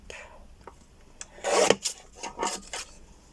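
A paper trimmer slices a strip of paper in a few short, close rasping strokes, with quieter handling sounds before and after.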